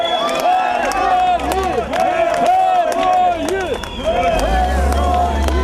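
Crowd greeting buses of returning Ukrainian soldiers with applause and shouts of welcome, a busy outdoor mix of clapping, cheering and excited chatter throughout, with voices calling out close by.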